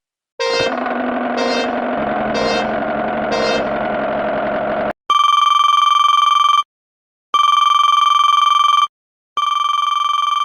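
A telephone rings, first in four quick trilling bursts, then in three long steady electronic tones separated by short silences, loud and close with no voices.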